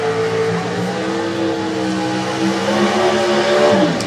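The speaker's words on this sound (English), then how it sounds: "Clint George just burning out in the Cavalier in the speed flow lane now" A Cavalier drag race car does a burnout in the lane at a Winternationals drag meet, its engine holding a loud, steady high-revving drone with tire squeal that swells slightly toward the end, with no talk over it.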